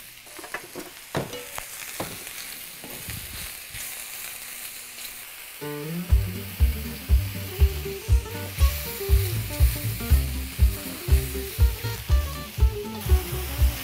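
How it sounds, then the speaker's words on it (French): Mushrooms frying in hot oil in a pan give a steady, close sizzle throughout. Partway through, a rhythmic beat of background music joins in over the frying. "nous allons mettre les champignons quand l'huile sera bien chaude"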